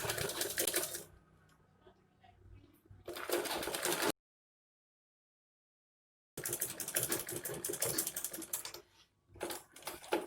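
A sewing machine back stitches a box pouch in two bursts of fast rattling stitching, each stopping in a short pause, with a stretch of dead silence between them.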